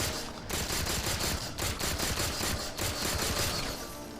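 Rapid automatic gunfire from the Halo 4 video game, loud and continuous, with dense bursts of shots fired back to back and no talking.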